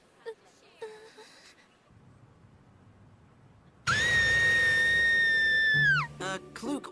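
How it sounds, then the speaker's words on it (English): An animated character from the Blue Dragon series screams at night in one long, sustained, piercing shriek that ends in a falling wail, loud and close, with brief voiced sounds before and after. "why are you screaming?"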